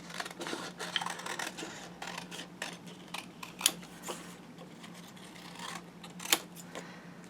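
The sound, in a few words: scissors cutting out a paper Alice figure for an album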